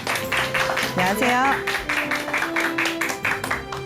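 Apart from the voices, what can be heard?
studio audience applause welcoming a guest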